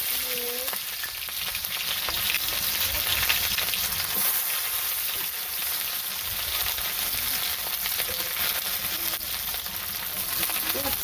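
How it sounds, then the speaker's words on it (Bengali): Cumin seeds tempering in hot oil, a constant close frying hiss with crackles, with a few faint background sounds. "এই যে এখন একটু জিরে ফোড়ন দিয়ে দিলাম"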